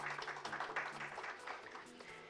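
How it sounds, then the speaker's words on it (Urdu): Audience applause at a theatre production company's launching ceremony, greeting Madam Zainab Dar: dense, steady clapping from a crowd throughout, moderately loud and continuous with a faint tonal hum underneath. "میڈم زینب ڈار کے لیے بھرپور تالیاں۔"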